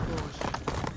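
A horse galloping in the video game Ghost of Tsushima, quick rhythmic hoofbeats over a short second alongside game sound and voices.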